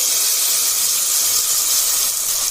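Lentils dropped into hot oil for tempering sizzle loudly and steadily, a close, continuous hiss with no voices.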